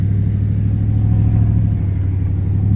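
A Ford F-150 Lightning TT build on a dyno gives a loud, steady, close engine drone with a deep rumbling hum that holds level for the whole stretch.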